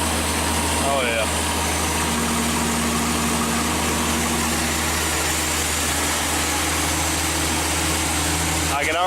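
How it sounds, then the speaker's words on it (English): A car engine idles steadily after an ignition upgrade, a constant low rumble with a smooth, even tone, loud and close, while a person talks over it. "I can already tell it's a little bit better idle than when I brought it in here."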